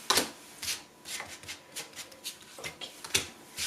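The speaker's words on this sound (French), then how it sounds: "je vais peut-être en faire un tirage à 6 cartes" Tarot cards being shuffled for a six-card spread: a run of quick, close riffling and sliding card sounds in an uneven rhythm, with no talking.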